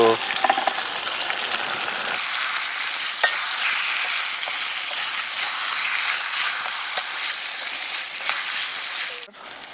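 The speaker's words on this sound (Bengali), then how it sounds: "মাংসতে নতুনত্ব রূপ দিতে কড়াইশুটিগুলো অ্যাড করে দিলাম" Green peas sizzle in a pan with chicken, giving a steady loud frying hiss with occasional stirring scrapes.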